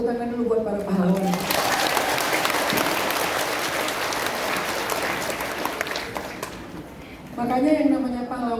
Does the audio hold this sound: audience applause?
yes